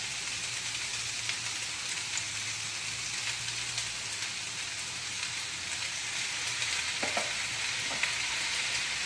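Food fries in a pan while being tossed with soy sauce for a sizzler dish, a steady hissing sizzle with stirring scrapes running continuously and fairly close, no voices.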